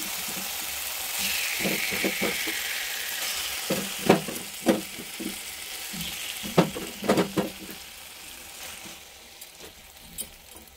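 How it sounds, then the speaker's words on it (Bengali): Small fish frying in hot oil in a wok, a steady close sizzle with repeated clattering scrapes and knocks as the fish are turned and stirred. "আমি এবারে মাছগুলো দিয়ে দিচ্ছি"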